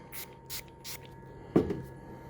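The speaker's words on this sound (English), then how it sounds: "We're going to use another cleaning stick. We're going to spray it down." A short, sharp spritz of cleaning fluid from a spray bottle onto a printer cleaning stick near the mic, following a few soft rustling handling sounds.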